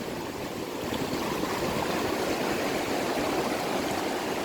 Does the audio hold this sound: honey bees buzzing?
no